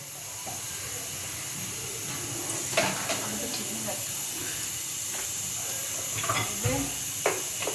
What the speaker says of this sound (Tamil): அதுக்கப்புறம் அதில் கடுகு